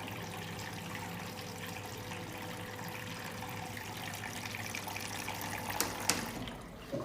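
Water runs steadily into a Bosch Series 6 washing machine, a constant rushing flow with faint clicks and a couple of brief knocks near the end, no voices.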